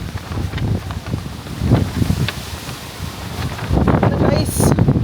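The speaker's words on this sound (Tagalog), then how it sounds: "Sobrang lakas sa hangin." Strong wind roars and buffets the microphone in gusts in Tokyo, Japan, with water sounds beneath and voices speaking over the blustery noise.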